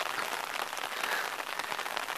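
Steady rain falls on a rural mountain road beside a riverbed, a dense, even hiss of drops that continues unbroken and fairly close, with no voices.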